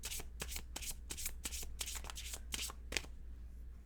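Tarot cards are shuffled by hand in quick, crisp riffling bursts, close and quiet, one card being drawn for a reading.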